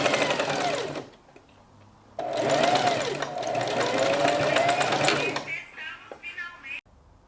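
A sewing machine stitches a fabric strap in two bursts of fast, steady, close-up whirring, separated by a brief pause, then stops with a few small mechanical clicks.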